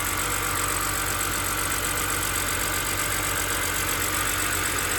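A 2006 BMW 325i runs at a steady idle right after valve cover gasket, VANOS solenoid, CCV and oil cooler gasket work, with an even, continuous hum lasting the whole stretch and no talking.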